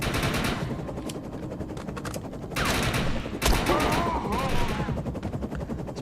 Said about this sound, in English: I'm still shooting at the tree.